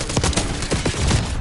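Shotgun blasts in the video game Black Ops 6, several sharp booming shots in quick succession, loud and close, with no talking.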